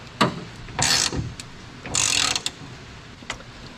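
A ratchet wrench clicks in short bursts while bolts are tightened on a Toyota Tacoma bed stiffener, two longer ratcheting runs with a few single clicks between, close and fairly quiet.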